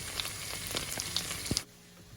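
Garlic sizzling in melted butter in a pan, a steady crackling fry with scattered pops close by, cutting off abruptly near the end.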